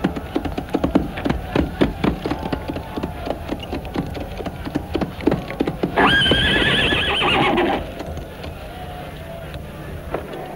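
A horse whinnies loudly for about two seconds, set against a steady run of hoof clip-clops on hard ground that fill the scene before and after the neigh, in a 1960s sword-and-sandal film setting.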